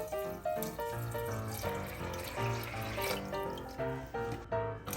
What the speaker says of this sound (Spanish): A nuestras lentejas agregamos un poco de agua.